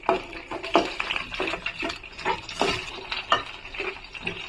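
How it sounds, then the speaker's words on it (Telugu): Chopped green chillies frying lightly in oil in a pan for an Andhra-style radish, coriander and tomato chutney, steady sizzle with scraping stirs and clinks, close up. "ముందుగా మనం కట్ చేసి పెట్టుకున్న పచ్చిమిర్చి వేసుకోవాలి కొంచెం లైట్గా ఫ్రై చేసుకోవాలి వాటిని"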